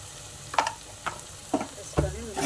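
Potato and green chilli curry with salt and turmeric being stirred in a pan: a few spaced scrapes and scoops of the spoon over a soft, low frying background, with a brief voice near the end.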